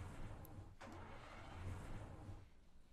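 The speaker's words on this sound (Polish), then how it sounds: "Silnik autobusowy, słyszysz jak to brzmi?" A bus engine in The Long Drive video game idles with a low, steady rumble, fairly quiet and continuous with no voices over it.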